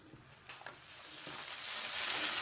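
Brain roast frying in a pan, a soft, close sizzle with a few light clinks of stirring early on, the hiss slowly growing fuller and brighter toward the end.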